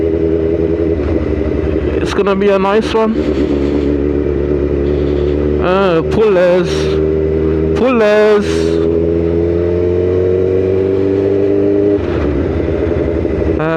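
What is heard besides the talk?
motorcycle exhaust riding through city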